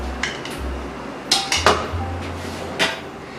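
A spoonful of ghee goes into a pot of Hyderabadi mutton biryani, heard as a few close, sharp metallic clinks and taps of the spoon against the pot, with no talking.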